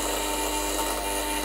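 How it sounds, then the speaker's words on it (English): A Breville Barista Express BES870 espresso machine with a dirty solenoid valve gives a steady, harsh buzzing hum, loud and continuous without talk. "It's the noise of the solenoid valve."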